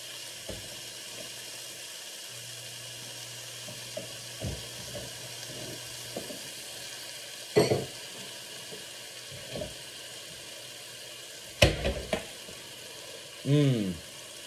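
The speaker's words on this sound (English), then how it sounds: "Bacon sizzle." Bacon frying in a pan during breakfast sandwich prep, a soft steady sizzle running underneath with occasional clinks and bumps of utensils and plate, close and fairly quiet.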